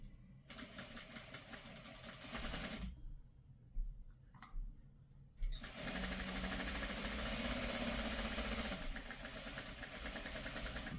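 Sewing machine sewing quilt seams for a tiny house quilt kit, a rapid ticking mechanical whir in two long runs separated by a brief pause with faint handling clicks.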